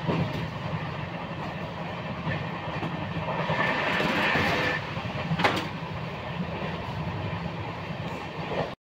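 A passenger train running on rails on a journey from Khandwa toward Chennai, heard from inside the coach as a steady low rumble with a louder rattling stretch midway and a brief clank, with no talk.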